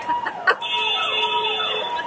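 Busy street noise in Old Delhi with a sustained electronic siren-like tone and horn blasts layered over a dense urban din.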